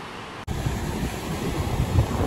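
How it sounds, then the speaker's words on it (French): Strong wind gusting at the seaside, a steady roar of buffeting wind noise that starts abruptly after a brief quieter moment and continues loud and rough, with no voices. "Il y a vraiment beaucoup, beaucoup de vent."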